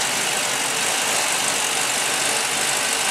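A 2003 Chevy LS 6.0 V8 engine running in a cradle idles quietly and evenly with a soft steady rumble, no voices over it.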